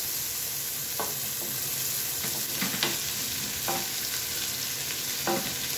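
Bitter gourd (ampalaya) frying in a pan with softened, cooked tomatoes: a steady, dense sizzle with occasional scrapes and taps of a spatula as it is stirred, close up and continuous.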